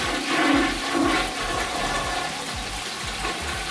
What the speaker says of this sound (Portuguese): vamos testar se a descarga está funcionando